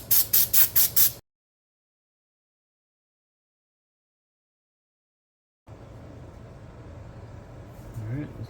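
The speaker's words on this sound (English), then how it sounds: "a little bit of steel wool here. I'm just going to clean this up as best as I can" Steel wool scrubs a Craftsman mini hatchet head in five quick, rhythmic rasping strokes. Silence follows, then a low, steady background hiss.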